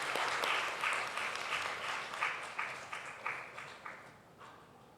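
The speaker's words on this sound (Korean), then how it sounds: "큰 박수로 맞이해 주시기 바랍니다." Applause from a church congregation during a Sunday service, a burst of clapping that thins into a few scattered, fading claps, moderately distant.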